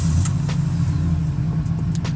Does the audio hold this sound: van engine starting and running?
yes